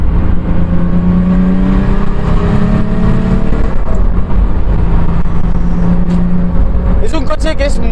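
A BMW E36 325 TDS diesel with a big turbo revs hard at full throttle, a loud, continuous engine roar with rising tones heard up close from the exhaust, ending with a few clicks.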